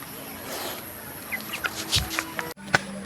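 Hens and roosters cluck in a backyard flock at feeding time, a few short clucks and calls spread over a light background noise, fairly close, with no talking.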